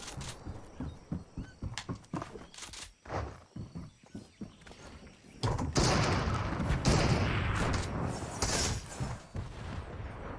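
Explosive grenades going off in Fortnite: a few sharp blasts and pops, then a sustained loud roaring burst of noise in the latter half, with no voices.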